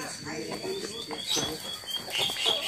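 Short chirping bird calls sound over steady outdoor background, close by, with faint voices in the mix.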